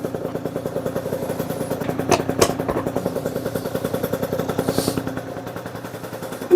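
An MBK X-Limit enduro motorcycle from 2008, with a large exhaust leak at the exhaust joint, runs nearby in a rapid, steady popping putter. A couple of sharp clanks cut through it partway in.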